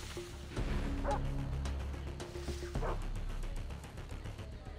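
Dogs in the shooter game Far Cry 3 bark and yip in a few quick bursts, fairly faint under low background game ambience.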